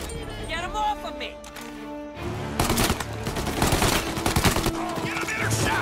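Heavy gunfire from a firefight in the Mafia Remake video game, starting as scattered shots and building into dense, rapid bursts, with game music and voices underneath.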